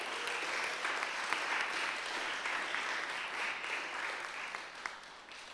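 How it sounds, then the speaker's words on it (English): An audience at a certificate presentation applauding, steady scattered clapping that holds at a moderate, somewhat distant level for several seconds before thinning slightly, with a few faint voices. "give these guys first a big round of applause"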